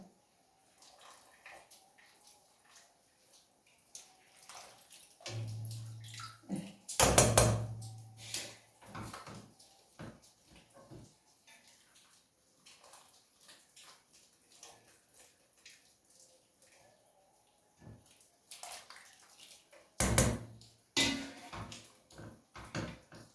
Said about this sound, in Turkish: Şimdi sıcak sudan alıp soğuk suda şoklayacağım.